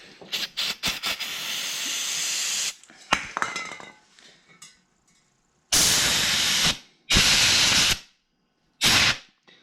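Compressed air gun blasting through a generator carburetor: loud sustained hissing bursts, one long rush then several separate sharp blasts with silences between, plus faint metallic handling clicks.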